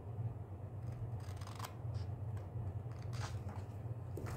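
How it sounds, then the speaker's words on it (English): Scissors cutting along the sides of a paper journal card, a few quiet crisp snips and paper crackles over a low steady hum, close by, with no talking. "all that you need to do then is cut along on each side"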